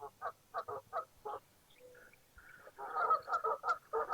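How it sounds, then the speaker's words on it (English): Geese honking in a rapid series of loud, nasal calls, starting in short bursts and building to a dense, continuous chorus. "There's the geese."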